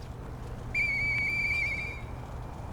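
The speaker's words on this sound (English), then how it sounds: "Hey, that sound. Is that you, Murphy? I know that whistle." Murphy's whistle in the video game Lies of P: one clear, sustained high whistle lasting about a second, moderately loud over a low rumbling background, with no talking.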